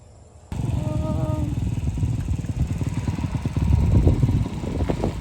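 A motorcycle engine near a modern bridge in Bohol chugs and clatters close by after a sudden start, swelling louder as it passes, with a faint voice briefly heard at first.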